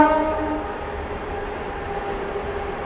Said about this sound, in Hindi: फिर कोई ट्रेन निकली दोस्तों।